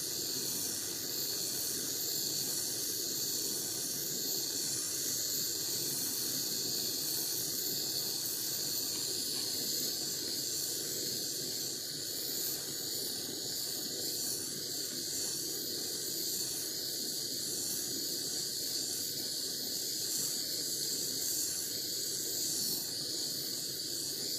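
A steady, even hiss of a torch flame fusing fine silver chain links runs continuously without pause, moderately quiet and close, with no voices.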